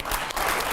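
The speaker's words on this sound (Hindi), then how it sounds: "जोरदार तालियां हो जाए, जोरदार तालियां।" Applause from a crowd at a political speech, a brief burst of dense, continuous clapping at steady loudness with no voices over it.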